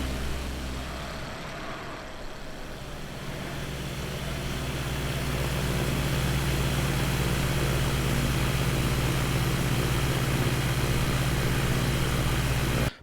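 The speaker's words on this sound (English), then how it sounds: "I think that's the drone engine sound. It's so dinky." Engine of a small drone aircraft in the video game Flight Simulator 2024: a thin, steady, continuous mechanical drone that swells slightly in the first few seconds and then holds a constant level, with no voices.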